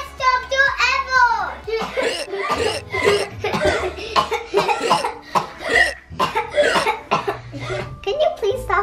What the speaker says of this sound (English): Can you please stop coughing?